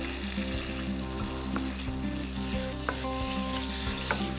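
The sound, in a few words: pesto with hazelnuts and garlic frying in pan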